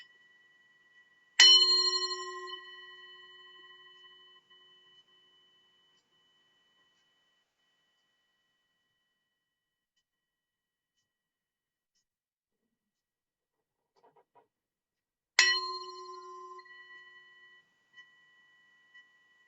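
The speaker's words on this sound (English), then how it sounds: "a few seconds of silence that I will ring in with this chime and ring out with a chime" A meditation chime is struck twice, about fourteen seconds apart, each strike ringing bright and clear and then fading slowly into near silence.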